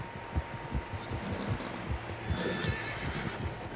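Horses in Red Dead Redemption 2 whinny amid steady clip-clop of hooves, with a low rumbling bed of movement throughout; several animals close by, no talking.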